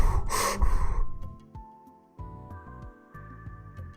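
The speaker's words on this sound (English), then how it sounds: "heavy breathing sounds." Heavy breathing sound effect from the visual novel game Chaos;Child, a loud burst of breath at the start, then quieter game music and soft effects with no talking.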